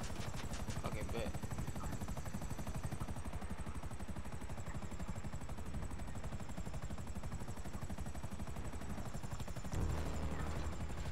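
A helicopter in Grand Theft Auto V gameplay gives off a loud, steady rotor chop and engine whine that fills the whole stretch, with players talking faintly over it.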